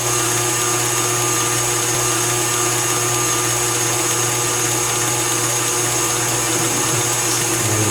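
A stand mixer with a whisk attachment whips chocolate cupcake frosting at raised speed. It gives a loud, constant motor whir and hum from start to finish, with no talking.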